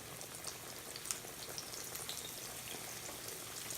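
Green tomato slices frying in a pan give a faint, steady sizzle with scattered small pops and crackles throughout, no voices.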